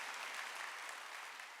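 Church congregation at a Wednesday worship service clapping together, a brief, even wash of many hands at moderate distance with no talk over it.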